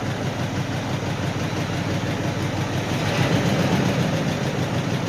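The engine of a 1977 Ford F150 truck runs steadily, a close, continuous low rumble with no voices over it.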